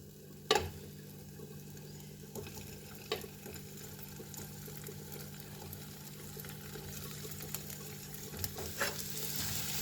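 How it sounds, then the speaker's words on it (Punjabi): Paneer frying in ghee in a pan for a dhaba-style palak masala paneer gives a soft, low sizzle, broken by a few sharp spatula knocks against the pan. "ਆਪਾਂ ਪਨੀਰ ਨੂੰ ਫਰਾਈ ਕਰ ਲਾਂਗੇ"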